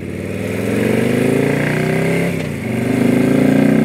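SE120R motorcycle engine revving hard and climbing through the rev range, a loud close buzzing drone that dips briefly at a gear change and then pulls up again.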